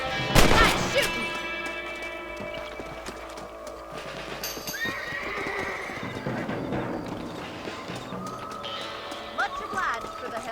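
Horses whinny and neigh over hooves clip-clopping in the video game Red Dead Redemption, with game-like sound effects and a sharp crash at the start.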